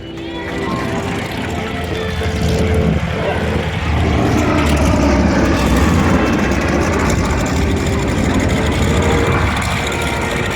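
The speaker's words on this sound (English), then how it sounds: "you'll get to hear these beautiful Cyclone engines again" A B-17 bomber's big Cyclone radial engines rumble and drone loudly at an airshow, building in power and holding a deep, throbbing roar with a faint voice somewhere beneath.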